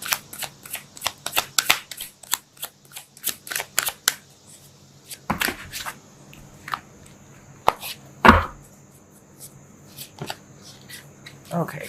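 Tarot cards riffled and shuffled in a close, quiet room: quick crisp bursts of flicking cards in an irregular rhythm, with sharper slaps and a louder snap partway through.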